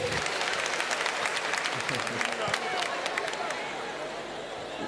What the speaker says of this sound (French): Est-ce qu'on peut avoir des applaudissements